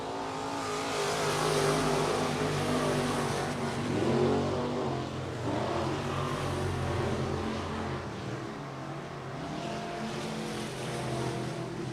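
Late model race cars circle a speedway track during a heat race with four competitors left, their engines a continuous blended roar that swells and fades slightly as the cars spread around the circuit.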